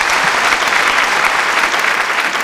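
Steady, dense applause from a large audience at a debate (pattimandram) in Tiruchirappalli, loud and continuous throughout with no voices over it.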